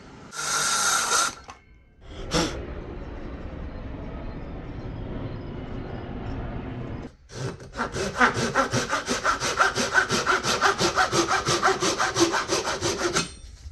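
A hand saw cuts through a wooden board for an acoustic guitar build, first in a few slower strokes and then in a fast, steady back-and-forth rhythm of rasping strokes, close and loud.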